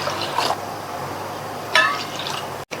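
About two and a half cups of water pour from a cup into ground spice powder in a cooking vessel for kuruma, a soft splashing trickle with a brief louder gush near the end.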